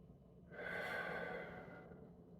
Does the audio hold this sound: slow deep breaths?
yes